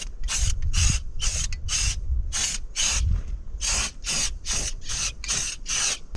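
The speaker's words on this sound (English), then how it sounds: "It's coming out of the spray can and wanting to drip out of the spray can everywhere." A spray can sprays paint onto a van in a series of short hissing bursts, about a dozen near, steady blasts separated by brief pauses, alone without talk.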